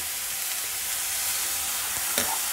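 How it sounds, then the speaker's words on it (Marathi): Cabbage and capsicum being stir-fried in a pan, a continuous bright sizzle with a couple of soft scrapes near the end, no voices. "आता थोडंसं आपल्याला छानपैकी याला 2 मिनिटं परतून घेऊया"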